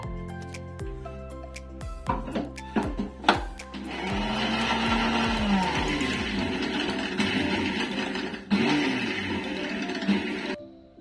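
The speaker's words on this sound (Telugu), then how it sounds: "ఇప్పుడైతే మిక్సీ వేస్తున్నాను" A kitchen mixer grinder grinds a batch coarsely while making semiya pakoda, starting with clicks and knocks, then running as a loud, steady whirring roar for several seconds before stopping abruptly.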